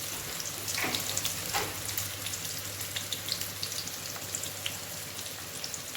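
Onion and dried red chilies fry steadily in hot oil for a South Indian tempering, a dense continuous sizzle with a couple of sharper crackles near the start, close and fairly loud with no talking.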